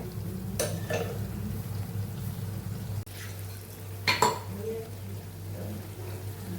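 A spoon stirs and clinks in a metal pot as water is mixed into a vegetable gravy for Kathiyawadi papdi and brinjal curry, with a few clear scrapes and taps over a steady kitchen hum while someone talks.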